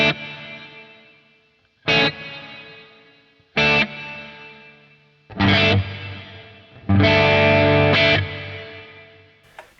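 Electric guitar chords struck through delay and reverb effects with distortion, five loud strums spaced a second or two apart, each ringing out and decaying into a long echoing tail, no voice.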